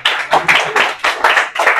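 A school class of ninth-graders gives a short round of applause, seven or eight close, loud, evenly spaced claps in quick rhythm with no talking.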